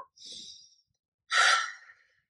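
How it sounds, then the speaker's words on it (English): A person breathing deeply: a soft airy inhale followed by a louder, fuller breath about a second later, close and isolated in quiet. "take a deep breath in right now"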